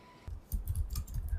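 Quick clicking keystrokes on a computer keyboard, close and fairly loud, tapping in an uneven rapid rhythm.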